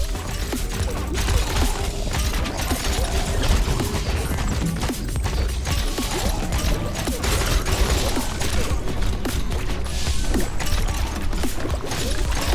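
Dense, continuous barrage of crashes, smashes and impacts from crossbow harpoons in Minecraft Dungeons setting off a chain reaction, with game-like mechanical clatter, loud and chaotic throughout without pause.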